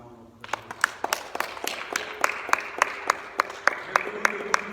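A church congregation applauds with rhythmic, evenly spaced claps that start after a brief voice and grow fuller, a sustained roomy clapping crowd.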